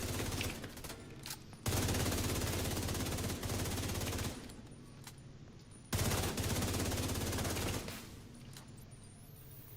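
Rapid automatic gunfire from The Division 2 in two sustained loud bursts, each followed by quieter stretches of scattered shots and ambient battle noise.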